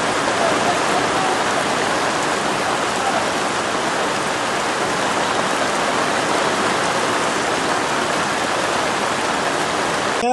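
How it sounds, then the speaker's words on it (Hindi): Rain falls on tents in Gaza, a loud, dense and unbroken hiss of drops drumming on fabric with no voices. "रुक रुक कर बारिश हो रही है, जिसकी वजह से टेंट में रहने वाले लोग परेशान हैं।"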